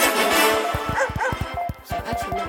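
Dog barking and yipping indoors at a home, a rapid run of short close-up barks and excited yelps with whining in between, fairly loud throughout.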